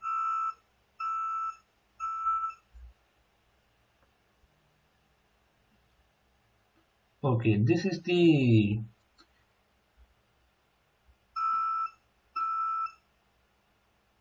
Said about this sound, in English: now we can hear the buzzer sound.